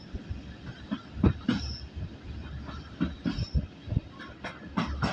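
Steam locomotive Titan hauling carriages from Corfe Castle to Swanage, heard from aboard as a steady rumble with rhythmic wheel clicks and occasional metallic squeals, moderately loud and continuous.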